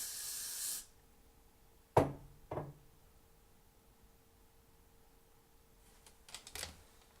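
Hair spray from an aerosol can misted onto a cosplay wig, one long hiss at the start followed by a couple of sharp clicks and a few faint spritzes later, close and quiet.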